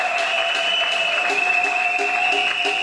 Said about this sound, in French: Acclamons encore une fois.